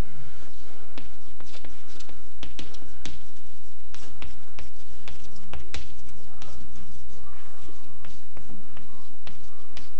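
Chalk or marker strokes on a lecture-hall board, a dense run of short scratchy taps and squeaks with brief pauses, close and fairly loud, with no one speaking.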